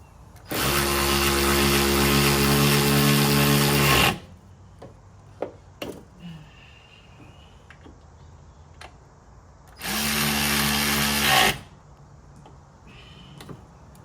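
A power tool whirs, zipping a fastener through on a 1000hp Toyota Supra during boost leak repairs, two loud sustained bursts of about three seconds and two seconds with quiet clinking between.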